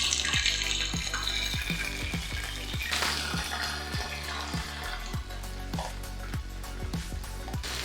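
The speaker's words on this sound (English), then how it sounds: "this oil is heated nicely, so I'll just gently be adding in my shrimps" Shrimps frying in hot oil in a pan, a constant loud sizzle and crackle close up, with regular clinking taps of a utensil against the pan.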